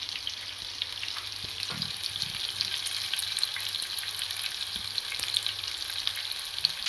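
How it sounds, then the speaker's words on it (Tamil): Chicken pieces frying in hot oil for Arabian mandi, a steady close sizzle and crackle holding throughout, with occasional light turning sounds and no voices. "சிக்கனை டிசைனாக திருப்பி போட்டு பொரிச்சிக்கிட்டு இருக்கோம்."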